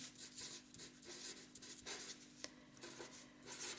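A pen drawing a line on paper, producing a faint, close scratching rub in short strokes with a small tap partway through, quiet and without speech.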